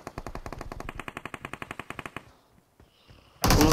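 Rapid automatic gunfire in the mobile shooter BGMI, a sustained burst of evenly spaced shots, then a brief lull and a sudden loud blast at the end.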